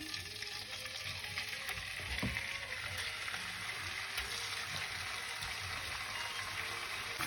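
Chicken frying in hot oil in a pan gives off a steady, close sizzle that hisses continuously, with an occasional faint bump or clink.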